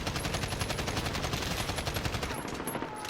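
Sustained full-auto gunfire from a Spetsnaz conversion kit gun in Call of Duty Modern Warfare, a fast, steady stream of loud shots rattling continuously for several seconds with no pauses.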